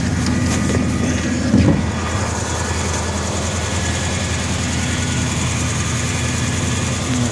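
A 1993 Cadillac Fleetwood Brougham engine idles in the snow, a steady low rumble with a constant mechanical drone and a brief louder bump early on.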